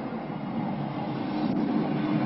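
A Paris metro MF77 train running, with a steady low rumble of the cars and a constant rolling roar, close and fairly loud, and no voices.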